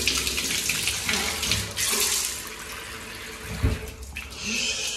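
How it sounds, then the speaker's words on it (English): A bathroom tap runs with a steady rushing hiss of water, fairly close and continuous, with a brief thump partway through and no talking. "tap works fine."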